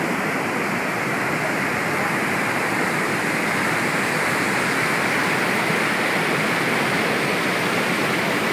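A river rushes over rough stones in a steady, loud, unbroken roar with no pauses.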